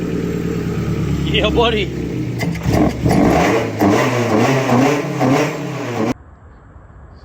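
A Toyota AE86 GTS engine runs steadily with a low, continuous rumble and some rising revs, loud and close, while a person talks over it before the sound cuts off abruptly.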